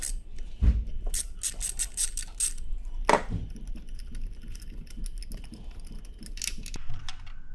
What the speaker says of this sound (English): So we're gonna get 5/8 extension, 3/8 ratchet.